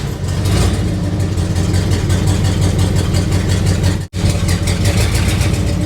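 An old Chevy or Chrysler engine, parked for decades, idles loud and close with a misfire and an uneven, lumpy running note. It cuts out for an instant near the end, then picks right back up.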